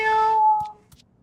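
A cat in the Zenless Zone Zero video game gives one clear, drawn-out meow that fades after about half a second, followed by a few faint clicks.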